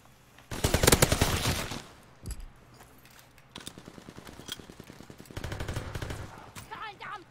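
Rapid machine-gun fire and single gunshots in Call of Duty WWII, loud and up close in fast clattering bursts with brief pauses, while someone talks over parts of the fighting.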